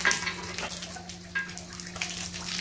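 Water runs and splashes to rinse soap off a machined Ford 7.3 engine block, a close, continuous gushing wash with small surges and no speech.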